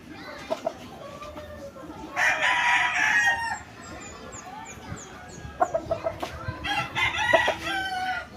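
A Dan Gray Roundhead rooster crows loudly and close, one long drawn-out call, while other fowl cluck and a second, shorter crow rises near the end over faint yard noise.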